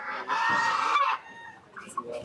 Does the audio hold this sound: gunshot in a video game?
no